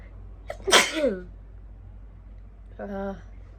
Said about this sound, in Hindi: दोपहर से छींक रुकी हुई थी, अब जाके तसल्ली हुआ है।